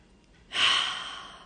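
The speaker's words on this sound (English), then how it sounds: "Deep breath in." A single deep breath, heard close and clear, rising quickly into a soft breathy rush that slowly fades away with no talking.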